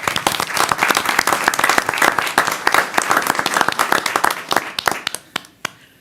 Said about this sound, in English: At this time, I'd like to give all of them a round of applause.